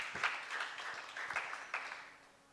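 Applause from a church congregation during a sermon, a faint, uneven ripple of hand clapping with a few sharper individual claps standing out before it tapers off.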